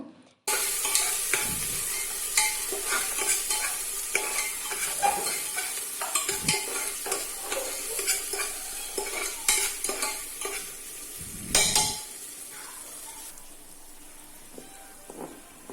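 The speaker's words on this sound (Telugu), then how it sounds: "అల్లం వెల్లుల్లి పేస్ట్ యాడ్ చేసి ఇది కూడా పచ్చివాసన పోయేంత వరకు అయితే ఫ్రై చేసుకున్నాను" Onions with ginger-garlic paste sizzle steadily in a hot pan while a spoon or spatula stirs and scrapes through them, the frying hiss continuous and close with repeated stirring knocks and no talking.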